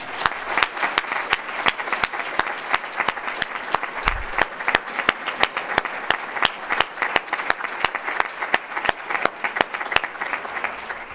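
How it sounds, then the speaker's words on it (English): Sustained audience applause at a university recognition event honoring top-10 scholars: dense, steady clapping from a crowd throughout, fairly loud and even with no talking over it. "it's still worth that round of applause"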